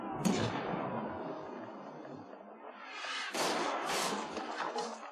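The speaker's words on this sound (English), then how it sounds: "So we fire the starboard cannons." Starboard ship cannons fire in a naval battle in Pillars of Eternity II, a volley of booming blasts with a sharp crack at the start and another cluster of heavy thuds a few seconds later.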